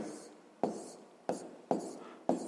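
A pen writes out a sixth-grade math solution on paper, making soft close scratching strokes with four or five sharper taps as new marks begin, in a quiet room.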